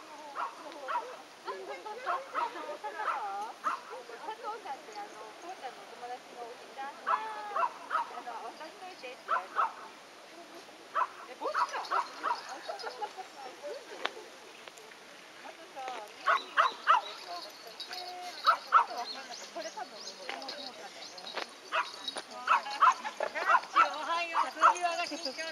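A dog barks in scattered bursts with some whimpering yips, mixed in with people chatting close by throughout, during a bath.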